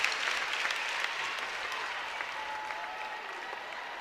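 Steady crowd applause fills an arena during a Nebraska vs Illinois women's college volleyball match at the Bob Devaney Sports Center, a dense, continuous wash of clapping that fades slightly over the seconds.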